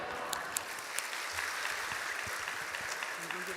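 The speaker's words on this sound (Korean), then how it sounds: "우리 나오실 때 할렐루야 또 박수로 맞이하겠습니다" A church congregation applauds during a Sunday afternoon worship service, a steady wash of clapping from many hands lasting throughout, moderately loud and continuous with no distinct pauses.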